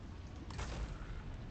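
Dwarf cannons fire in the fantasy strategy game Warhammer Total War, a muffled, rumbling boom rising briefly over a steady low battle din, moderately distant.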